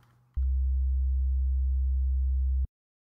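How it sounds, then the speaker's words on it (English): A synthesized sine wave plays as a single steady, pure, low tone for a little over two seconds, clean and alone, starting and stopping abruptly. "Sine waves,"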